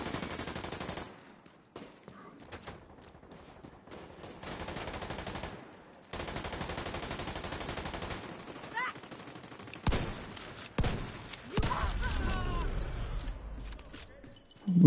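Enemy gunfire in a video game, rapid bursts of shots in clusters, some loud and close, others fainter, with gaps of quiet between volleys.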